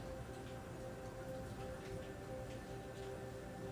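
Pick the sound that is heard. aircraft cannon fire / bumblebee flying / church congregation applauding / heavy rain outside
heavy rain outside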